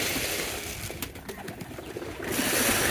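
Pigeons in a loft where chicks have hatched cooing low and close, with soft rustling and a few brief taps amid a steady background hiss.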